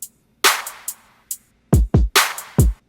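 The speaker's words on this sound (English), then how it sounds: "here's a drum group I have that sounds like this" A drum group from a music production plays alone: a bright crash-like hit and lighter ticks, followed by several deep, punchy kick-and-snare hits in quick succession, dry and close.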